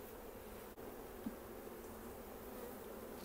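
Honeybees buzzing around a beehive in the UK, a dense continuous hum of many insects close by, low and steady with no talking.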